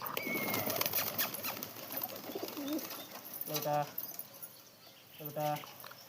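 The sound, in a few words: pigeons feeding nearby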